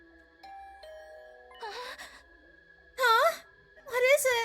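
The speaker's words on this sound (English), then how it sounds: "My heart did a somersault then when my doorbell suddenly rang." A soft, sustained doorbell tone sounds in the video game The Hundred Line Last Defense Academy, followed by gasping and sighing voice effects.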